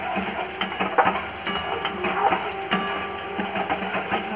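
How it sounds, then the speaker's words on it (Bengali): Spices of salt, cumin, chili powder, turmeric and sugar fried and stirred in a pan for chana dal dhoka curry, giving a steady close sizzle broken by frequent scraping and clinking of a spatula against metal. "মশলাটা ভালোভাবে কষিয়ে নেব।"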